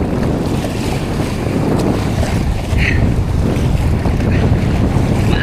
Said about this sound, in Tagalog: Maalon lang mga amigo.